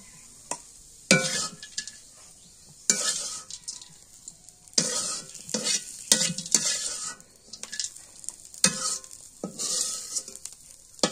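Vegetable bhaji frying in a pan on a stove while it is stirred, with repeated scraping strokes and bursts of sizzle close by, alone without talk.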